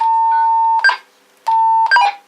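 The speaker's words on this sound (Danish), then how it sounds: "Så starter vi shunting-tonen." Shunting tone from a TP8000 shunting radio: two steady electronic beeps, each about a second long and loud, followed by a short warbling chirp, with a brief gap between the two cycles and no talking.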